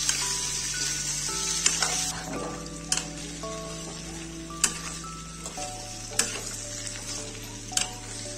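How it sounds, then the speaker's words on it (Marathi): Boiled potatoes, made from potato chips, being stirred into fried spice masala in a pan, with a steady sizzle under repeated scraping and clattering spoon strokes, close and alone. "त्यामध्ये आपण शिजवून घेतलेले बटाटे टाकूया। सर्व मसाल्यामध्ये मिक्स करून घेऊ।"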